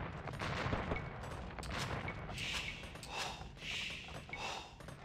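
Volleys of organ gun fire crackle in an Age of Empires battle during a Celts boom against an organ gun push, dense rapid shots and impacts layered over constant game noise, moderately loud with no talk.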